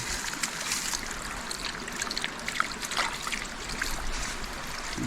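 A steady trickle of water from a spring runs and splashes nearby, continuous and moderately loud, with small drips and gurgles throughout.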